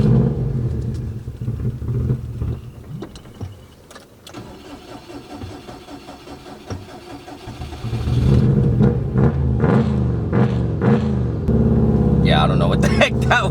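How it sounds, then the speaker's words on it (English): A 2002 Subaru WRX with a straight-pipe exhaust, first idling with a rough, burbling rumble, then getting louder and more aggressive near the end, with blips mixed in and a person talking in between. "This thing sounds so crazy. It being like straight pipe like this"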